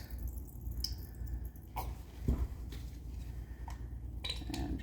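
Acrylic paint poured in layers into a cup for pendulum pouring, giving soft, low wet trickling and dripping with a few faint plastic clicks and one brief splat, steady and close.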